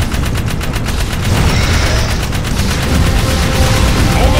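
Rapid gunfire in the Jak 3 video game: a dense, loud stream of automatic shots in quick, even bursts, with explosive crackle filling the whole stretch and no talking.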